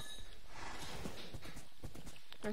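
Horse hooves clip-clop at a steady trot in the Minecraft video game, close and continuous with a faint whinny.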